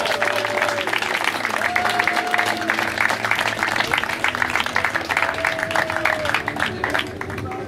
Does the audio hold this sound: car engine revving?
no